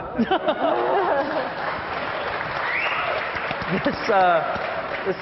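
Audience applause and cheering at a startup pitch competition fill the scene, with crowd chatter and laughter mixed in and voices speaking over it.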